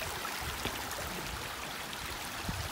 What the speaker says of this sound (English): negotiating that little creek.